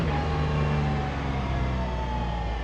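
A Mercedes CLK GTR Roadster's engine drones steadily at moderate volume while driving, a sustained tonal roar holding a fairly even pitch throughout.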